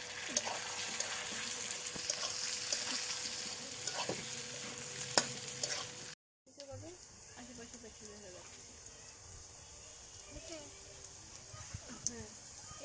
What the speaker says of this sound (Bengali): এখন দিয়ে দিব কেটে ধুয়ে রাখা আলু। পেঁয়াজের সাথে একসাথে ভেজে নেব।